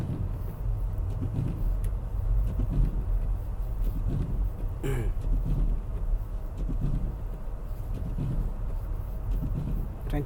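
Car driving through a snow storm, a steady low road rumble and engine drone running throughout, with a brief sharper disturbance near the middle and faint voices underneath.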